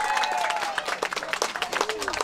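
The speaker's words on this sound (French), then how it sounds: "un tonnerre d'applaudissements pour l'équipe jaune" A village team-games crowd claps and cheers for the yellow team, scattered hand claps under excited voices, moderately loud and lively.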